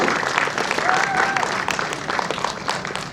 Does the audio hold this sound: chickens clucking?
no